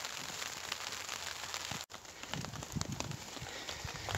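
Steady rain pattering through wet winter woodland, a continuous broadband hiss with scattered droplet taps, fairly close, briefly interrupted by a short gap midway before resuming.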